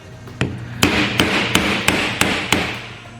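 A hammer strikes a cold chisel seven times in a steady rhythm to drive the parts apart, each sharp metallic blow close and loud with a ringing tail.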